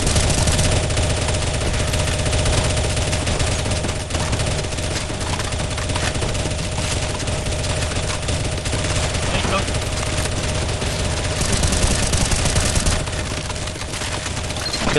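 Loud gunfire fills a round of CS:GO Zombie Escape: dense, continuous shots over a constant droning background, with no pause for the whole stretch.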